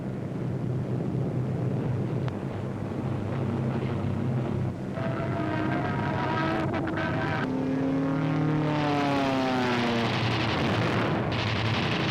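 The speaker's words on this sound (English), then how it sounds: "German fighters attempting to intercept a heavy bomber attack are shot down by P-47s." Engines of P-47 fighter planes in a World War II aerial battle against German fighters attacking a heavy bomber formation, a continuous loud droning roar with rising and falling whining tones as aircraft pass close by.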